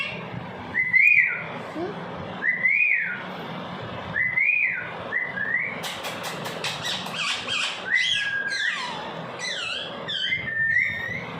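A pet parrot whistles in a series of rising, looping whistles, close and clear, repeated several times with short gaps, followed by a burst of quicker squeaky chirping whistles.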